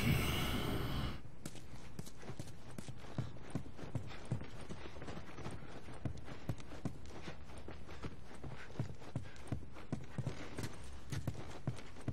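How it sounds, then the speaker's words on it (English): Horse hooves clip-clopping in the video game The Last of Us, a steady rhythmic series of hoof strikes at a walking pace, moderately close and continuing throughout after a brief burst of noise at the start. "Let's get back to the horses."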